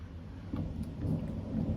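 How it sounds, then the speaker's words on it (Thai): Low thunder rumbles through a rainstorm, a broad rolling boom that swells midway over steady rain. "ฟ้าร้อง"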